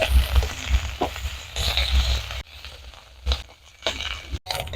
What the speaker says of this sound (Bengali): হলুদ দিয়ে দিচ্ছি ভালো করে ভেজে নিতে হবে